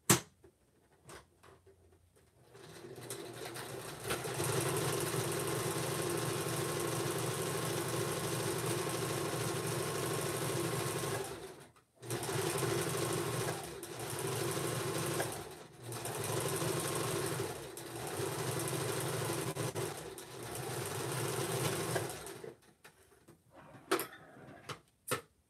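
A sewing machine stitching sweater mittens, running loud and close in long steady bursts broken by short pauses.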